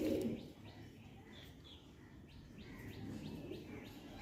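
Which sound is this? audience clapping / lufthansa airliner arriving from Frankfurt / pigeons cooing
pigeons cooing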